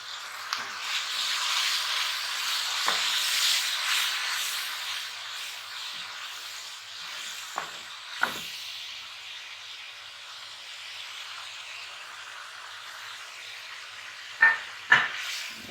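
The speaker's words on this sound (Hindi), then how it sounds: "मसाला हमारा बहुत अच्छा भून रहा है।" Masala sizzling as it fries in a pan for fish curry, after green chillies and yogurt have been added; a soft, steady frying hiss continues throughout, with a few brief clinks from stirring.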